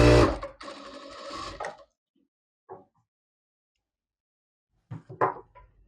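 Sewing machine stitching blouse pieces together, a loud dense mechanical whir for about a second and a half at the start, then quiet with a few faint soft knocks and handling sounds later.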